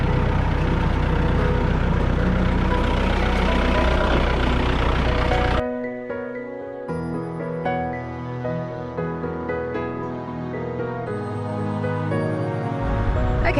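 A tractor engine runs loudly and steadily while a heavy sink is moved outdoors at a glamping site, a dense mechanical drone that cuts out sharply partway through, leaving a quieter, tonal rumble behind.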